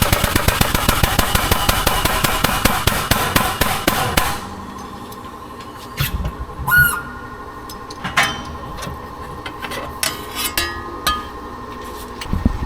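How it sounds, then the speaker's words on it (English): A hammer drives dimple dies into sheet metal for a battery box in a home shop, a rapid run of loud, sharp metallic strikes followed by a few scattered taps and clinks. "we're gonna smash some dimple dies into it"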